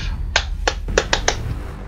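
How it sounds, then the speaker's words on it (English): Sharp claps or snaps in the video game Rainbow Six Siege come as five crisp, close hits in an uneven rhythm over a constant low game rumble. "Oh my god, that clap! It sounded like the beginning of that song."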